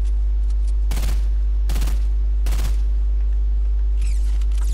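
Three sharp bursts of rapid gunfire in Fortnite ring out about a second apart, loud and close, over a steady low hum, with faint clicks near the end.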